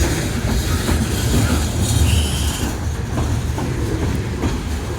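A loaded coal train rolls out of a rail yard, its wagons producing a loud, continuous rumble with rhythmic clickety-clack and occasional wheel squeal, close by.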